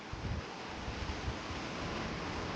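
Sea waves breaking on Chivla beach at Malvan, a steady broadband roar with gusty wind buffeting the microphone, continuous and fairly close throughout.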